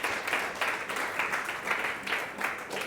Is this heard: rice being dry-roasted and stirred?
no